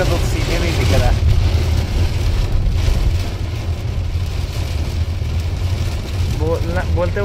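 Rain falling steadily around a parked car during a monsoon shower in Varanasi, a dense continuous hiss with low rumble, while a person speaks over it.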